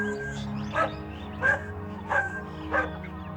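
African wild dogs call in the wild: four evenly spaced short yelping cries, about one every two-thirds of a second, over a low steady background drone.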